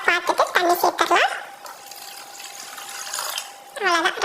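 Water is poured into a pot of rasam on a home stove, a soft, rushing splash lasting about two seconds. Someone talks just before and after the pour.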